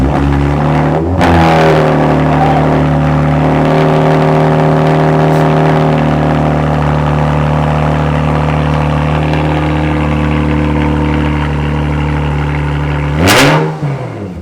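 A Lexus IS fitted with PPE headers cranks and fires up, then settles into a loud, droning idle before a brief sharp rev near the end cuts off abruptly.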